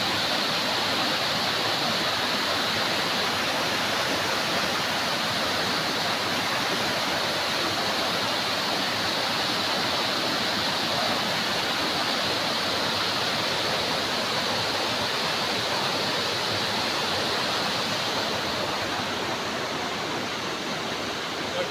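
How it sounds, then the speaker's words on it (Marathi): Water pours some 20 feet down from a bridge like a waterfall at a village in Konkan, a loud, steady roar that fills the whole stretch without a break. "ह्या ब्रिजवरून पाणी येतं."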